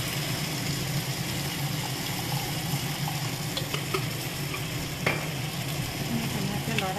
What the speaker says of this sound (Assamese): অলপ পানী দি